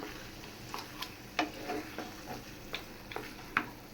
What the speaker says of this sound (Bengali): কচু শাকটা আস্তে আস্তে নেড়ে দেই একদম ভাজা ভাজা করব